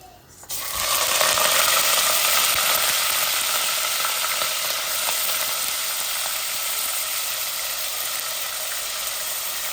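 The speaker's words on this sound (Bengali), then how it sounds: "এখন আমি পেঁয়াজ দিলাইমু।" Sliced onions hit hot oil with whole garam masala spices while chicken curry is being cooked, giving an immediate loud, steady crackling sizzle that persists evenly without speech.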